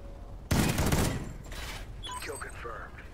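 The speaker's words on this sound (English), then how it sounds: "It's kind of fun shooting off the hip like this, I gotta admit." Video game gunfire as a weapon is fired from the hip in a burst of rapid shots, loud at first and tapering off, followed by quieter in-game mechanical and electronic sounds.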